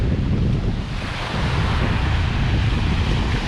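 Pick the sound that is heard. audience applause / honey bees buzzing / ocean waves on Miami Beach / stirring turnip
ocean waves on Miami Beach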